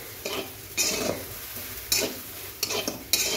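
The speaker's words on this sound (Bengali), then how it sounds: "আমার ঢেঁড়সটা প্রায় ভাজা হয়ে এসছে" Okra stir-frying in a pan after a squeeze of lemon juice, with spatula scrapes and stirring clatter breaking through a steady sizzle in several bursts.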